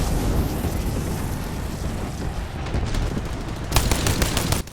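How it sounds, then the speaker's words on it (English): Gunfire in the battle royale game Apex Legends, dense rapid shots blending into a continuous crackling roar, with a louder burst of fire near the end before it cuts off. "Luckily, I was able to get a good shot on this Bangalore, which downs her"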